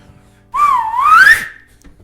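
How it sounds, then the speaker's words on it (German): A single loud, clear whistle rises and falls in pitch for about a second, alone against near silence. "Wenn ich pfeife, so laut wie es geht"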